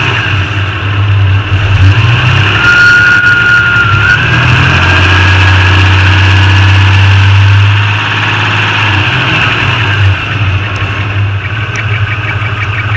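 A car engine idles steadily with a low, droning rumble, rising briefly in a rev partway through before settling back to a constant idle; the engine has an air leak near the headers and a recurring squawk.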